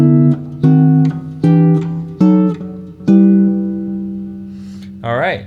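Chord voicings with passing diminished chords between them create bebop-style motion, heard as a series of sustained, evenly paced chords, each struck and ringing briefly, ending on a short bending tone.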